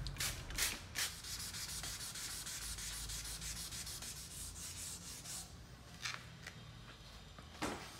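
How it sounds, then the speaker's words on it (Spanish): Wet sanding of a 2006 Audi A3 headlight with 1200-grit sandpaper, heard as a close, quiet, steady rubbing in repeated back-and-forth strokes, with brief sharper scrapes. "ahora la 1200 la voy a lijar en el otro sentido, para mantener el patrón cruzado con los pasos de lija"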